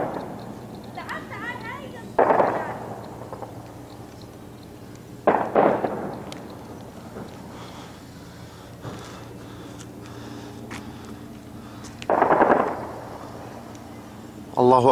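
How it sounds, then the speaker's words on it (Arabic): Warplane bombardment strikes a city, heard as several heavy, booming explosions at intervals, each rumbling out over a few seconds, with voices shouting and talking in between. "قصف المدينة بالطيران الحربي."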